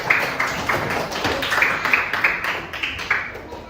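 A classroom of young children claps hands in a patterned rhythm, with quick uneven bursts of claps repeating close by and faint voices mixed in.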